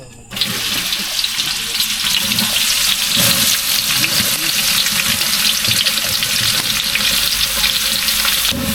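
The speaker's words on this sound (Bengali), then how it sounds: "আমাদের খাসির গোশ রান্নার জন্য তেল দিয়ে দেবো আচ্ছা, পেঁয়াজগুলো দিয়ে দেবো" Onions hit hot oil for a mutton curry cooked outdoors at a picnic, setting off a loud, continuous sizzle that stays steady throughout, with the occasional clatter of stirring.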